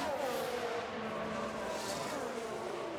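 A Ferrari Formula 1 car's engine in the F1 Manager 2022 racing game, a steady loud whine with sliding pitch as the car runs through a replay, with no voices.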